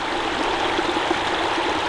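Water splashing and trickling in the shallow travertine pools at Pamukkale, a steady close wash of flowing water with small splashes, no talk.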